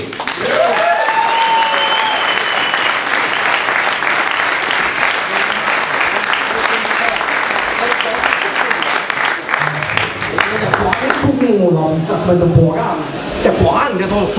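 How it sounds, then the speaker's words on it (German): Loud, sustained audience applause at a Christmas party, dense clapping throughout, with voices calling out over it near the end. "Einen großen Applaus bitte"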